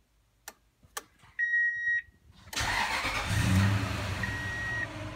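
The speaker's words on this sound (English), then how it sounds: "Triggers and starts the whole system. So now my truck is running." A pickup truck fitted with a Raspberry Pi remote-start unit gives two sharp taps, a couple of electronic beeps, then the engine cranks and settles into a steady idle, with a brief tone over the running motor.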